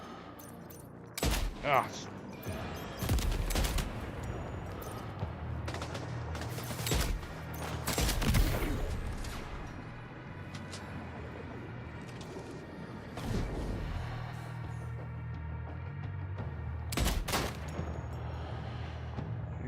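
Gunshots in the video game Death Stranding 2: scattered sharp bangs and short bursts come at irregular intervals, some loud and close, with a brief exclamation from a voice and quieter stretches between.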